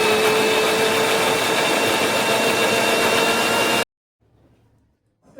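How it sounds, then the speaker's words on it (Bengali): Soaked raw rice is ground with small additions of water into a thin batter for gur golla pitha. A loud, steady grinder motor whirs for about four seconds, then cuts off to near silence. "জলটা অল্প অল্প দিয়ে আমি খুব ভালো করে পাতলা করে চালটা বেটে নেব"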